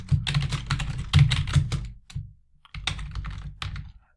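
Close-up typing on a computer keyboard, with quick bursts of crisp clicking keystrokes, a brief pause in the middle, then another rapid run of taps.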